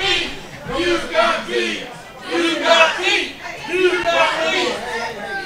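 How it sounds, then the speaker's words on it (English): A wrestling arena crowd roars and shouts in rolling waves of cheering voices, rising and falling loudly with overlapping yells throughout the match. "Listen to the crowd."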